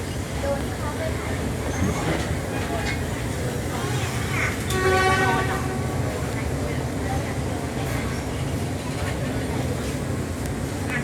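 A train crosses a bridge, its steady rumbling roar continuous throughout with a brief louder rattling swell midway, heard from on board alongside faint background voices.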